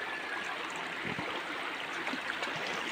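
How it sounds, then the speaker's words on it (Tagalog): Clear mountain stream in Cawayan flowing steadily, a soft, even rush and trickle of water heard alone at low level without talk. "may bundok, may sapa na napakalinaw ng tubig"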